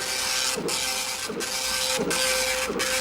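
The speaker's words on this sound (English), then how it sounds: "that incredible noise there is the words being printed at the rate of 120 per second" A Walters printer driven by a 1982 home computer prints text at 120 words per second, making a loud, continuous mechanical buzz with regular pulsing bursts about every 0.7 seconds and no talk over it.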